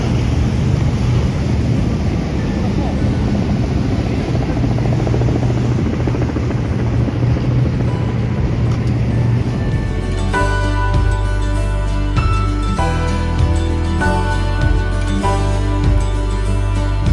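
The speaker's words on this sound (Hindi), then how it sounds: "ये एक स्पीड बोट राइड है" A speedboat rides near the Brooklyn Bridge, with a loud, steady roar of engine and rushing water mixed with heavy wind buffeting against the microphone, shifting partway through to a harsher, choppier engine drone.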